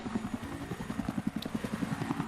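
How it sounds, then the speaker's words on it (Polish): A helicopter in the video game Battlefield 3 gives a fast rhythmic rotor thumping under a broad rushing noise. It is fairly close and steady throughout. "Helikopter."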